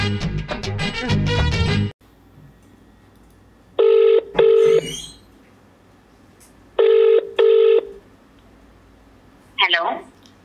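A phone call is placed: a quick run of dialing tones at the start, then two pairs of ringback tones spaced a few seconds apart over quiet line hiss, ending with a short burst of a voice.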